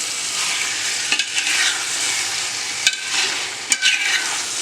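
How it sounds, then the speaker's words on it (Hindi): A mixed curry of mutton, chicken and fish sizzles steadily in a pan on low heat, with a few soft clacks of a spoon stirring through it, close and continuous without talking. "अब इन सबको हम थोड़ा सा मिला लेते हैं।"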